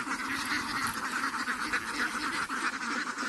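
Ducks kept with little water in a dry yard quack and honk steadily, a dense flock calling close by without pause.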